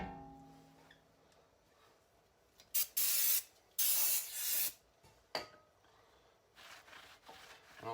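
Brake cleaner sprays onto car brake parts during a front disc and pad change, several short loud hissing bursts separated by pauses in a quiet workshop.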